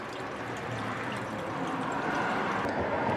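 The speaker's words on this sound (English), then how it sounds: "I'm just going to fill it up with distilled water" Distilled water poured steadily into the radiator of a first-generation Cummins truck, a continuous close rushing pour that runs unbroken for the whole stretch with no voices.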